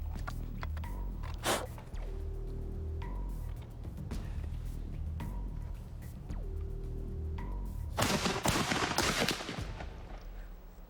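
A matchlock musket fires with a sharp blast near the start, then a louder, drawn-out roaring discharge later, set against a steady background hum with faint clicks.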